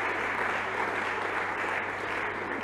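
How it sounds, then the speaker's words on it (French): A crowd at an alumni general assembly claps continuously, the applause steady and full from start to end, with no voices standing out above it. "je voudrais qu'on les applaudisse pour leur engagement"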